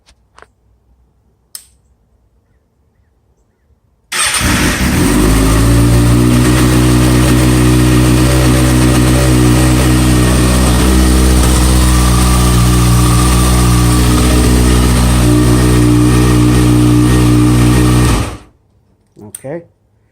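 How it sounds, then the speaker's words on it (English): A 2009 Kawasaki ZX6R engine cranks and fires during an oil and filter change, running loudly and steadily for about fourteen seconds at a close, even idle before cutting off abruptly, with brief quiet handling noises before and after. "let's go ahead and crank it for like just a second."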